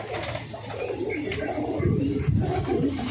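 Andra pigeons coo in a steady, low, throaty murmur, a continuous close-up rumble of several birds with no talk over it.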